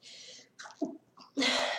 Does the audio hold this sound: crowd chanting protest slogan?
no